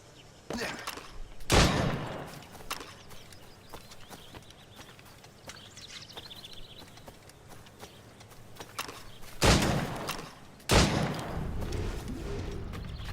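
Gunfire in Assassin's Creed Rogue: three loud, sharp shots stand out, one early and two close together near the end, over a quieter bed of game noise.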